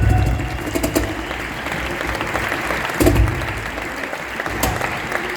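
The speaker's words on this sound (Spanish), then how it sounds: "Un aplauso para ella enorme." An audience at a Día de Aragón event in the Edificio Pignatelli claps loudly and continuously for several seconds after a performer is introduced with the Aragonese folk group, and a few sharper claps stand out.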